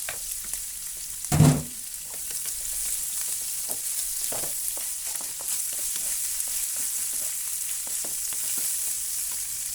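Garlic and onion frying in a pan for a Bicol tinawsian dish, a constant close sizzle with a sharp knock near the start and occasional scraping, no talk over it.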